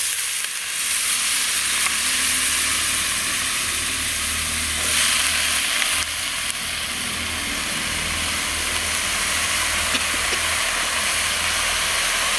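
Brinjal frying in a pan in a village-style kitchen, with a loud, continuous hissing sizzle that holds steady throughout and a low rumble underneath, and no talking.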